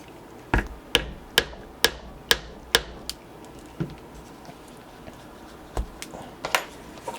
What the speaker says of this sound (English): So I'm going to punch my center hole in there first